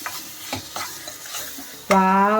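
Dried prawns stirred and frying in hot oil, with a spoon scraping the pan in several close strokes over a steady sizzle, and a voice cutting in at the end.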